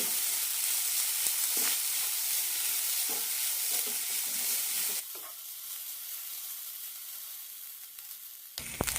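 Grated coconut sizzles in ghee in a hot pan over a low flame, with a spoon scraping through it. The hiss is steady and close and grows quieter partway through, with a few clatters near the end and no speech.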